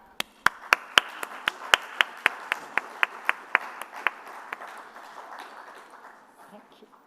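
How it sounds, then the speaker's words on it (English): Clapping at a women's entrepreneurship conference, a run of crisp, evenly spaced claps that ring out clearly at first, then thin out and fade into a softer patter of scattered hands. "So I would like to invite a round of applause to Sanjam Sahi Gupta."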